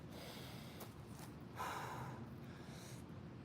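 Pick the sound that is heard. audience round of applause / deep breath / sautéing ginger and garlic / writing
deep breath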